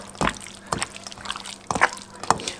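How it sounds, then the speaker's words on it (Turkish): Bare hands squelch and slap through wet marinated meat for küşleme, giving a few close, moist squishing pulses and sloshes in an uneven rhythm, with a faint voice in the background. "Şimdi şu etleri burada artık elimi sokacağım mecburen."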